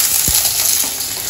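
Onions, tomatoes, green chillies and lentils frying together in a pan, a loud, steady close sizzle with faint stirring scrapes through it.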